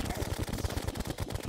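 Rapid gunfire from bullets in the video game Terraria rattles off in a quick, even burst of about a dozen shots, close and fairly loud.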